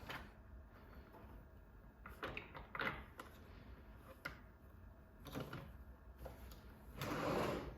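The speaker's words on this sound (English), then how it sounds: "You want to look in the other drawer?" Makeup foundations being rummaged through in a drawer: repeated clacks and rattles of compacts and bottles shifting, with the drawer sliding, close and moderately loud, with a brief voice faintly in the background.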